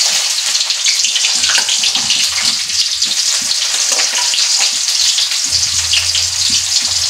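Fish frying in a pan, a loud, dense, continuous sizzle that stays steady throughout, close to the microphone with no talk.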